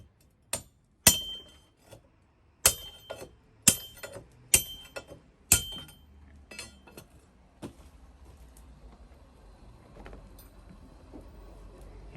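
A hammer strikes sharply about eight times, chipping grout from a foundation vent, each hit a crisp metallic clink with a short ring, followed by quieter scraping and tapping as the blows stop.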